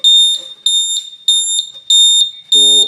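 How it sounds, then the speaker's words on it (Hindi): Indicator buzzer on a Hero Glamour BS6 motorcycle gives five sharp, loud, high electronic beeps in an even rhythm, with a short burst of voice at the very end. "हमारा जो इंडिकेटर बजर है वो सही तरह से काम कर रहा है या नहीं कर रहा है।"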